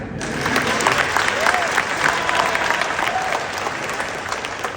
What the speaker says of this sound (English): I really wanted us to give them such a round of applause